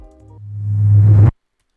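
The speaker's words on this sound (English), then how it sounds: "Now leading on to the next part, I have this accent here which I reversed." A reversed swell that builds from a quiet tone to a loud, noisy rush, then cuts off abruptly into silence.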